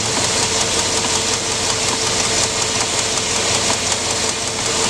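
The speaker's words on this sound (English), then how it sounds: "we energize that pump again" A car's evaporative-system leak detection pump runs with a steady, continuous mechanical hum and whir, close and unbroken throughout, with no talking.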